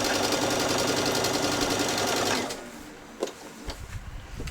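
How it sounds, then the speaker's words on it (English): A sewing machine runs steadily, stitching along the top edge of a child's dress yoke, then stops partway through, leaving a few soft handling clicks and rustles. "now we're going to stitch along the top edge of our yoke."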